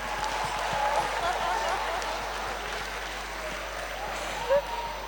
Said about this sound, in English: Can we please clap for her?